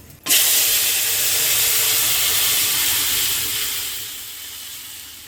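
Dal hits a hot pan with a sudden loud burst of steam, settling into a strong continuous hiss and sizzle that slowly softens over several seconds, with no voices.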